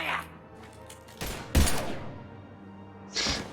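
Gunfire in the video game Mass Effect 3, a few sharp bursts and heavy thumps mixed with in-game voices and a low background hum.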